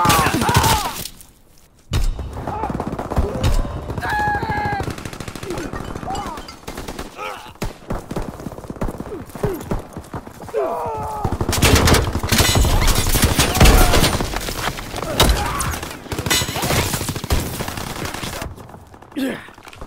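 Gunfire in a Call of Duty game comes in dense rapid bursts and scattered shots over nearly twenty seconds, with shattering and thuds mixed in and voices speaking now and then beneath the fighting.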